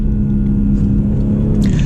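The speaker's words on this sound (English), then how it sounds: "So you do have the pops and crackles on the exhaust." A BMW M340i xDrive in Sport Plus mode gives a loud, close, steady low engine and exhaust rumble, with a few faint crackles near the end.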